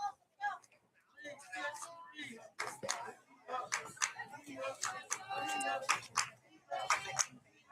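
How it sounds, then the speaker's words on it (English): Centennial fans at a high school softball game cheer and clap in short scattered bursts, fairly faint and intermittent, with voices talking over them. "of cheering going on from Centennial"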